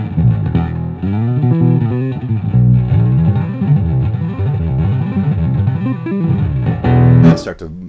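Bass guitar run through distortion with a compression switch engaged, playing a sustained, thick low riff at steady loudness, with a brief brighter burst near the end.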